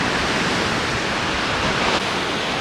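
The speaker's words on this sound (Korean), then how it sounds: "파도가 너무 세니까 애초에 볼 수가 없네" Strong ocean waves break on a beach in Sydney in winter, a dense, steady roar of surf with no pauses, loud and close, with no voices.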